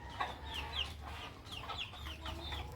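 Upgraded native chickens after feeding, with several birds giving soft, scattered clucks and short calls at moderate distance over a low background hum, no one speaking.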